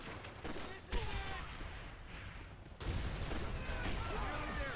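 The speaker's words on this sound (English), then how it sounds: "Stop shooting at me!" Dense, continuous gunfire from the World War II shooter game Call of Duty: World at War, with overlapping bursts and blasts filling the whole stretch at steady loudness.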